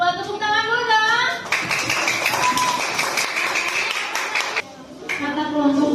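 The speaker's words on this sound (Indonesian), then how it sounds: "Tepuk tangan dulu dong" Schoolchildren in a classroom clap for a student group after its presentation, a brief burst of scattered hand claps between stretches of a teacher's voice.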